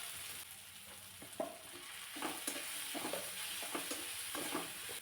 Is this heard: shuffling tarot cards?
no